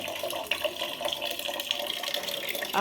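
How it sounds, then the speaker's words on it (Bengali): Running water fills a bucket and bottles with drinking water at a household tap, a steady close splashing rush that continues without a break for a few seconds. "এই বালতির মধ্যে জলগুলো সব ভরা হয়, শুধু খাওয়ার জল। এই যে বোতলগুলো আরে জল ভরা হয়।"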